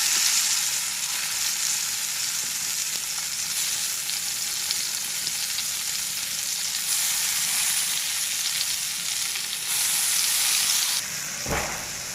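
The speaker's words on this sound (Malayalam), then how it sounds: "ബാക്കിയിരിക്കുന്ന വഴുതനയെ നമുക്ക് ദേ ഇതുപോലെ പൊരിച്ചെടുക്കാം" Slices of eggplant (brinjal) fry in a pan with a steady, close sizzle that holds at one level throughout, rising briefly near the end as the slices are stirred or moved.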